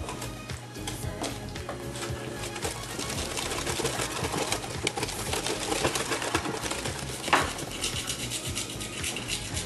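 Pumpkin pie filling being stirred and mixed in a bowl, a steady busy scraping and churning that runs throughout at close range, with a brief louder clink near the end.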